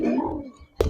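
Pigeons of mixed fancy breeds, kept for sale, coo at close range, a low throaty murmur rolling through most of the second before a sharper burst near the end.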